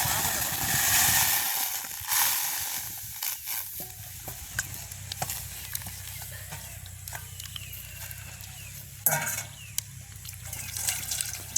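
Salt water is poured into a hot pan set over a well-burning stove while a sweet mixture is being dissolved. It gives a soft hiss and sizzle with stirring scrapes, stronger bursts early and near the end, and faint voices in the background.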